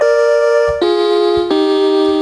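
A cheap electronic keyboard plays a reedy, flute-like synthetic tone in imitation of a Chinese dizi, three sustained notes stepping downward, clean and close.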